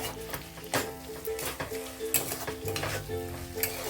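Chicken pieces sautéing with spices in a pan, a soft steady sizzle broken by repeated scraping and clinking stirs of a spoon against the metal.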